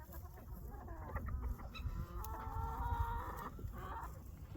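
Hens in a pasture-raised egg-laying flock cluck steadily, with a rooster crowing now and then, close and moderately loud against a busy outdoor farmyard background.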